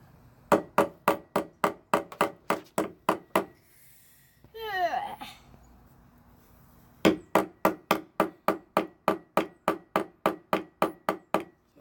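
A child drives nails into wood for a first woodworking project, a steady run of sharp, evenly spaced hammer strikes, then a brief pause with a squeaky vocal sound, then another long, even series of blows.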